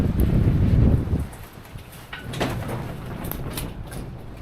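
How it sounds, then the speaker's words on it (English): Gusts of wind buffet the microphone outdoors near a door, a loud low rumbling surge at first that drops off, then a steadier rushing that builds again with faint rattles. "Damn gusts are coming again."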